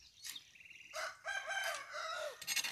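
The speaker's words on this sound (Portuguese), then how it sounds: "E os galos cantando." Several roosters crow in overlapping calls on a rural smallholding, a drawn-out cock-a-doodle-doo rising and falling, with another bird starting up at the end.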